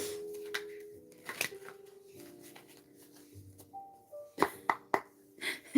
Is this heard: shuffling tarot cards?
yes